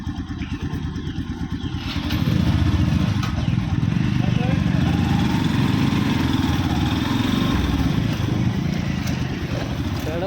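A motorcycle engine putters steadily as the bike creeps down a steep, dangerous slope toward a creek, a continuous low drone growing louder after the first couple of seconds, with people talking over it.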